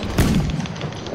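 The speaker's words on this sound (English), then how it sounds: "I'll fire a cannon at you where I am." A tank-style cannon fires in Battlefield 4 on a carrier assault map, a single loud close boom with a heavy low thud that rolls off over about a second.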